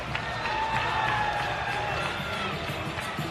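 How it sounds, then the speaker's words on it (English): Crowd at a fight in Denver cheering, a wide continuous roar of voices with scattered clapping, steady throughout while a commentator's voice runs over it. "Great crowd here in Denver."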